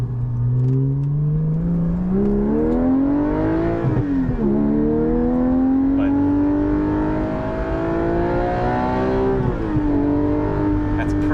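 A Porsche 718 GT4 fitted with a Soul Performance race exhaust revs up through the gears, its loud, raspy engine note climbing in pitch, dropping at shifts and climbing again, heard close from inside the cabin.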